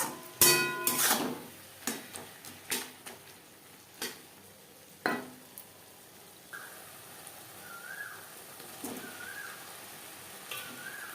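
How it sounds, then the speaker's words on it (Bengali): A utensil clinks and scrapes against a pan while salt, turmeric and spices are stirred into onion and tomato. The sharp taps come at an irregular pace and grow softer, and faint chirping sounds toward the end. "লবণ, হলুদ ও মশলা পেঁয়াজ টমেটোর সাথে বেশ ভালো করে মিক্সড করে দেবো।"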